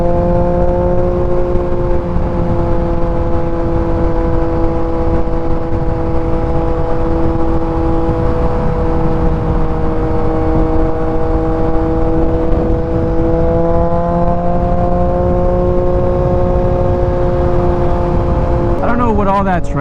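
Steady engine drone of a Yamaha XSR900 motorcycle riding at night through highway traffic, a continuous loud hum with shifting tonal pitch and wind noise, briefly rising near the end.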